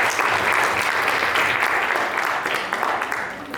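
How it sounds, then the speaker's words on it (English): Steady, dense applause from an audience honoring the newly named directors at a volunteer appreciation event, sustained and fairly loud throughout, easing slightly toward the end. "So a huge round of applause for them."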